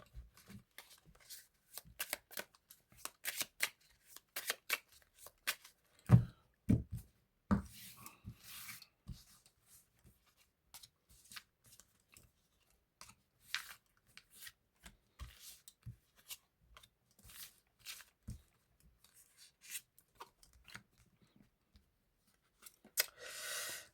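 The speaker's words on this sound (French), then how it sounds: "Je vais remettre 5 cartes." Cards are shuffled for a tarot-style card reading, giving quiet, close riffling and sliding snaps in irregular bursts with soft gaps between them.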